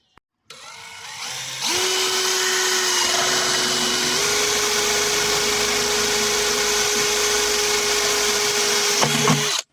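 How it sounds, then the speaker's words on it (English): A power drill bores holes into a plastic bucket being made into a self-watering planter. After a brief click, a loud steady motor whine runs for about eight seconds, steps up slightly in pitch partway through, and then stops. "Measure up from the bottom 5 inches on your bucket and mark it. Make your mark. And drill above."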